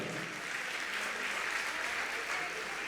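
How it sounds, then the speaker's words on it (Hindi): A seated audience at a spiritual question-and-answer gathering at Gunayatan, Shikharji, claps in steady, dense applause, moderately distant and even in level, with no voices over it. "तालियां आपकी कम बज रही हैं, अच्छे से बजाइए थोड़ा"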